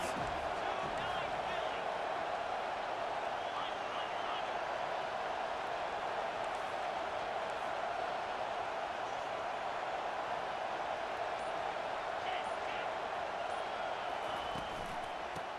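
A stadium crowd at a college football game roars steadily as a dense, continuous wash of cheering for a big third-down defensive play, with a commentator talking over it.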